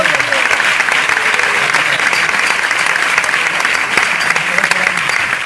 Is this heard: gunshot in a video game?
no